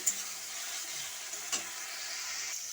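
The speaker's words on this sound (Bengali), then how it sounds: "এটা যতক্ষণ না কাঁচা গন্ধ যাচ্ছে আমি অনবরত নাড়তে থাকবো" A mixed spice paste fries in a wok-style pan while being stirred constantly, giving a soft, steady sizzle with a couple of faint scraping knocks.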